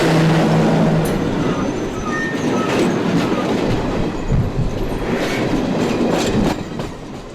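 A passenger train in India rolls along the rails with a loud, continuous rumble and rhythmic clickety-clack, plus a brief wheel squeal. It sounds close and steady, with no talking.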